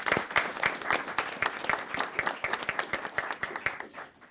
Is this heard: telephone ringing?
no